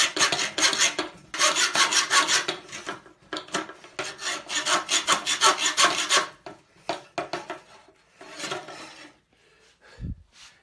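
A hand file rasps against a steel bayonet blade being converted into a trench knife, in rapid rhythmic strokes that run steadily for several seconds, then slow to a few scattered scrapes and a soft thump.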